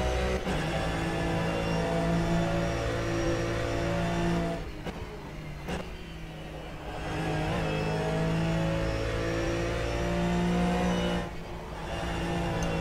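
Race car engine in the rFactor 2 simulator, a loud sustained harmonic drone with steady revs, dipping briefly on lifts and shifts near five and eleven seconds before climbing again, close and alone.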